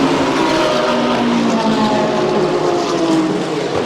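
Race cars pass on the track at Paul Ricard. The engine roar is loud and steady, with a dense wash of sound swelling slightly as the cars go by. No one talks.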